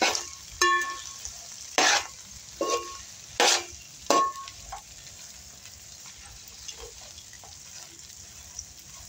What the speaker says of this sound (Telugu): కాస్తంత ఆయిల్ పోసి వేగనివ్వాలండి